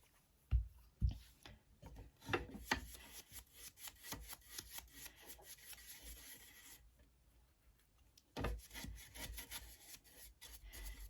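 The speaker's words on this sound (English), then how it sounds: "I'm just going to use just a regular brush here and just put the clear wax everywhere" A regular brush scrubs clear Rust-Oleum wax onto a metal watering can, giving close, uneven rubbing and scraping strokes with a few sharper knocks and a short pause before the brushing resumes.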